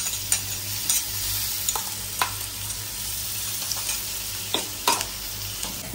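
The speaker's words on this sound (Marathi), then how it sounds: "मी आलं लसूण आणि हिरवी मिरची जे वाटलेलं आहे ते मी त्याच्यात घालते" Ground ginger, garlic and green chilli paste frying in a pan for vada pav, a continuous hiss of sizzling oil with occasional sharp taps and scrapes of a spoon, close and steady, no talking.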